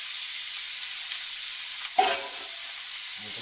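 Chopped Spanish onion sizzles steadily in Spanish olive oil in a pan, a continuous close frying hiss with one brief clink or stir sound partway through, no talking.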